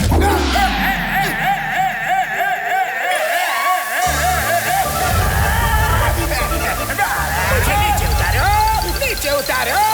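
Cartoon water spray gushing and sloshing in an animated kids' show, heard under loud excited shouting, music and other voices throughout.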